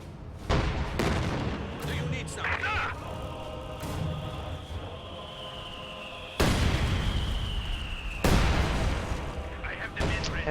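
A rifle grenade explodes in a video game battle, one of several heavy booms over a continuous rumble of gunfire and combat noise.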